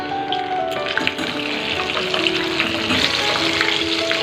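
Potato pieces frying in hot oil with turmeric for a Bengali chicken curry, a dense, even crackling sizzle with a low steady hum beneath, close and fairly loud throughout.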